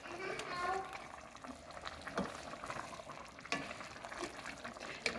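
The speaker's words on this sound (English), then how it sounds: "now I'm gonna cook it until the cheese just starts to get soft, but stays in clumps or in squares" Rajas con queso, poblano pepper strips with cheese, cooks in a pan with a steady soft sizzle, broken by occasional scrapes and clicks of stirring and faint background voices.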